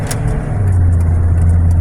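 A Dodge Tioga RV with a V10 engine accelerates toward freeway speed, the engine's low steady drone loud and close, alone with no voices.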